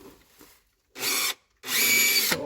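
Power drill boring a hole in wood during a home EV charger installation, two loud close bursts of whining spin, the second longer, separated by a pause, with faint handling noise before.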